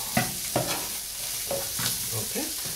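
A spoon stirs salt into capsicum masala rice in a hot pan, with a steady low sizzle and several distinct scraping strokes spaced across the short stretch, close and clear, with no talking.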